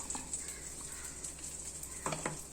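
Freshly ground gravy is poured into a curry that keeps sizzling in the pan, a steady hiss with a few soft splashes and stirring bumps, close and moderately quiet, no speech.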